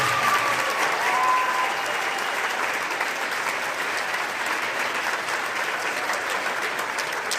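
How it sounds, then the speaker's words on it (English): An audience at a middle school band Christmas concert gives loud, sustained applause, a dense steady clatter of many hands that continues evenly throughout. "Give these guys a round of applause."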